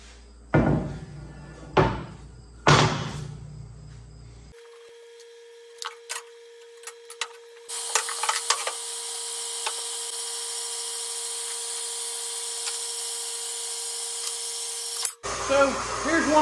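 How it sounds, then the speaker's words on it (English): Stock for truck side-board standards is cut into one-foot lengths. A few loud knocks and handling clatter come first, then a steady high-pitched tool whine runs for several seconds before stopping abruptly. "I'm going to cut this into 1-foot lengths"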